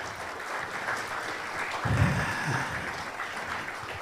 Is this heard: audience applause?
yes